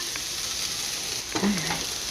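Tomatoes hit a hot frying pan and sizzle in a steady hiss, with a short clatter near the end. No one talks.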